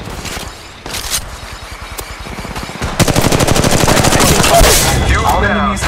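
Loud, fast automatic gunfire in Apex Legends Mobile: a steady rattle of rapid shots that builds into a dense sustained burst, close and dominant.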